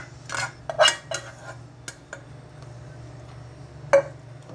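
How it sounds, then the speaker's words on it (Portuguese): A spoon clinks and scrapes against a bowl while homemade yogurt is mixed with vegetables and fruit, giving a few irregular close taps and stirring sounds over a low steady hum, with no talking. "Agora eu vou misturar as outras coisas aqui."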